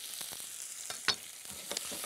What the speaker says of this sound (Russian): Яблоки необходимо хорошенько обжарить.